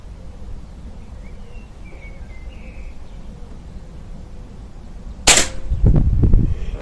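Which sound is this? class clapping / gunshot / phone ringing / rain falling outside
gunshot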